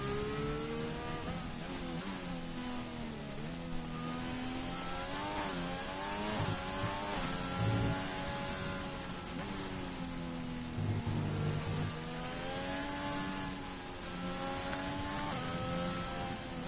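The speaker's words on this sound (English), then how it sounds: "Sam Coles in the McLaren heads back out" A McLaren F1 car engine in an online league racing game during qualifying, a continuous high-pitched whine rising and falling through gear changes and throttle lifts, loud and close with no talk.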